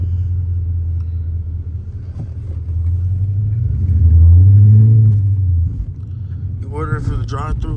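A Chrysler 300C with a 5.7L HEMI engine drives along, its deep, steady engine drone swelling in a brief rev midway before settling, with a voice joining near the end.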